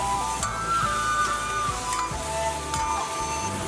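Konjac stir-fried in a hot wok with a splash of aged vinegar, a loud continuous sizzle with rhythmic scraping strokes of the spatula roughly every second.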